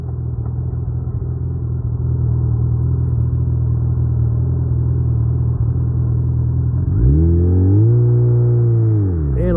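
Motorcycle cruising onto a wet winter expressway in Michigan in late December, its steady engine rumble and road drone loud and continuous, with the engine pitch climbing and falling as it revs and shifts near the end.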